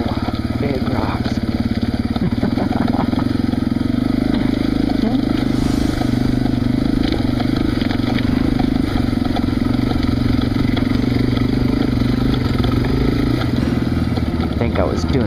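A motorcycle engine runs steadily while riding through a parking lot, a continuous close mid-pitched drone with rattles and bumps over rough ground, and a rider talking over it at times.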